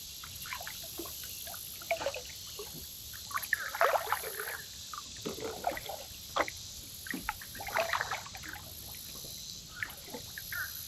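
A kayak paddles on Pennington Creek, with soft, irregular splashes and drips of the paddle entering and leaving the water. The sound is quiet and close, with no voices.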